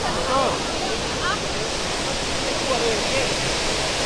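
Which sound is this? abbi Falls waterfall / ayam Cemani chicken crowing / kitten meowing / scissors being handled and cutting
abbi Falls waterfall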